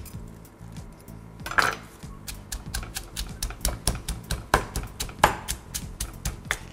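Garlic, ginger and mint pounded into a paste, a steady run of sharp, hard knocks repeating in quick rhythm, close and fairly loud.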